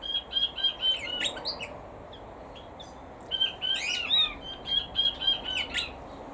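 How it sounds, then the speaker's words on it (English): Quail in an outdoor aviary give bursts of sharp chirping calls in two clusters separated by a short pause, fairly close, over a soft rustling background with no talk. "Quail are having a little squawk."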